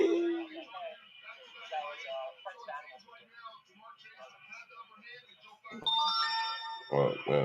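A phone's ringtone or notification chimes ring out loudly near the end, cutting in over someone talking steadily through a live NFL Thursday Night Football kickoff show.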